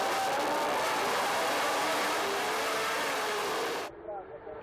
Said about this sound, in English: Glorious engine noise. 3-litre, mainly V8 engines,